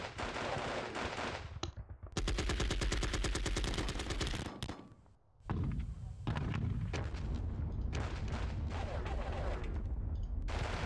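Rapid bursts of gunfire from units firing in the Normandy wargame John Tiller Panzer Battles, loud and dense with repeated rattling volleys that break off briefly and then resume.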